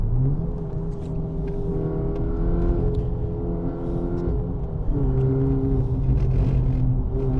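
Peugeot 308 RC race car engine revving hard with wheel spin on loose ground, a steady loud roar with shifting pitch and a brief dip near five seconds, no voices.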